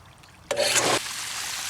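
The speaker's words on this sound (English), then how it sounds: "You can see how green that water is coming out of the filter." Green, algae-laden water gushes out of a swimming pool filter during a backwash, a sudden loud rushing burst lasting about half a second before settling into a quieter steady flow, with no talking.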